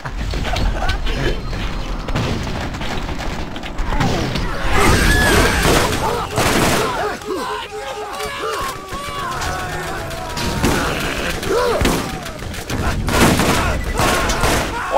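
Pistol fire in the video game Borderlands, a series of sharp gunshot cracks and mechanical clicks scattered across the scene, mixed with game effects and a voice talking over it.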